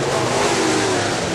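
Late model race cars at Salina Speedway, a loud, continuous engine roar filling the whole moment as cars race close by, with no pause or voices.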